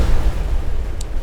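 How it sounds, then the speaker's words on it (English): A single blast of explosives going off in the beaver city-building game Timberborn, a deep, loud boom with heavy low rumble and a short crackle, heard alone. "We're just going to be doing a good old explosion."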